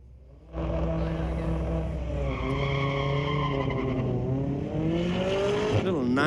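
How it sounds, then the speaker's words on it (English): Drag race cars, a 1995 Nissan and a BMW, run at a street legal drag night at Mission Raceway Park, with a loud engine note rising in pitch under acceleration and a brief tire squeal near the end. "Little 95 Nissan. A 24 BMW facing off at the finish line."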